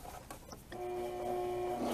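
A sewing machine runs steadily as it stitches elastic onto an eyelet blouse with satin trim, a few soft handling clicks coming first before the motor's even whir sets in and carries on close by.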